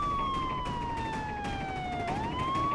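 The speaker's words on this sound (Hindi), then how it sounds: "ये तो पुलिस की सायरन की आवाज।" A police siren wails steadily, its tone sliding down and then rising again, moderately distant above a low background hum.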